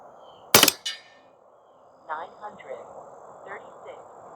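A Western Airguns Sidewinder .22 air rifle fires one sharp, loud crack, followed by a quieter metallic echo, then someone speaks quietly in the background.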